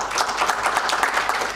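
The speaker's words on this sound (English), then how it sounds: "offer a huge round of applause for them" Audience applause for guests at a panel discussion, a steady wash of many hands clapping at close range, even in level and continuous for the short stretch with no talking.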